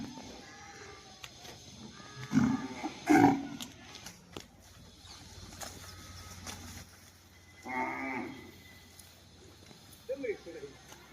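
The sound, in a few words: cows mooing at cow shelter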